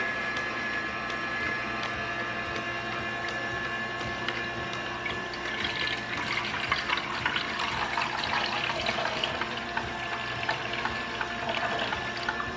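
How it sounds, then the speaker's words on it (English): Ginger juice is slowly poured out of a machine at home, a steady liquid trickle and splash that grows more prominent midway, close and continuous with no talk. "let's release some of this ginger juice slowly."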